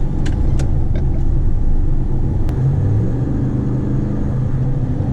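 A 2019 RAM 1500 pickup truck with a tuned engine accelerates gently from the cabin, a steady low engine rumble and road noise holding throughout with a slight rise in pitch, with no talk.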